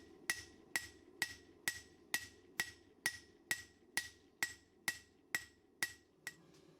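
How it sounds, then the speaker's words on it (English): A hammer strikes a cleaver blade on an anvil, forging bevels into a billet of 80CrV2 and 15N20 go mai steel. Fourteen sharp, ringing blows land one after another at a steady, even pace, close and clear with nothing else heard. "Now I'm going to forge in the bevels."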